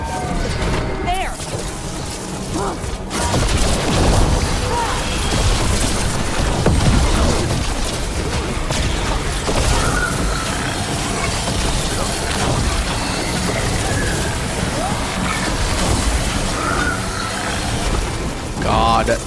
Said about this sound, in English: The meteor is just a big explosion, which is not as cool